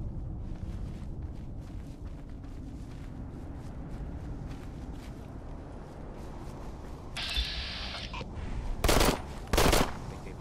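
Rapid video game gunfire rattles in dense bursts against a busy background, with a couple of sharper, louder shots near the end.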